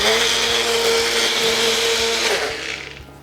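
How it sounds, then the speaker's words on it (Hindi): A mixer grinder whirs at high speed blending a spice paste with yogurt, steady motor hum and rhythmic knocking, for a few seconds before winding down. "इसको घुमा दिया मिक्सी में, बना लिया पेस्ट"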